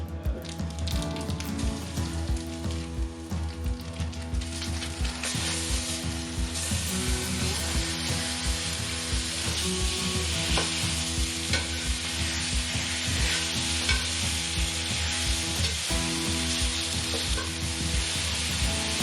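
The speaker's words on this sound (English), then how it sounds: "Gonna put my beef in and start browning it." Meat sizzles and crackles steadily in a hot pan, with scraping stirring and clinking utensil sounds throughout.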